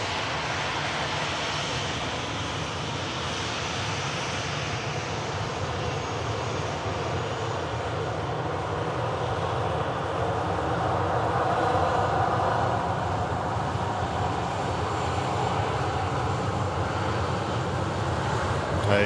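An aircraft flies in at Manchester Airport with a continuous broad roar that swells slightly toward the end, steady and fairly loud.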